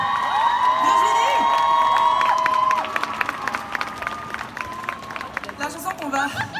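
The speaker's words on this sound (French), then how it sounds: "Je vais vous demander un tonnerre d'applaudissements pour Virginie" Arena concert audience cheering loudly with whoops and shouts, then breaking into scattered applause and calls as the roar fades after about three seconds.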